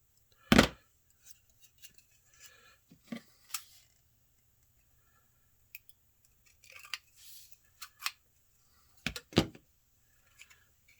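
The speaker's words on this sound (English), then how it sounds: "just take the scissors" Scissors trim a 3D-printed N scale model house part, snipping repeatedly at an irregular pace, sharp metallic clicks close up with quiet pauses between cuts.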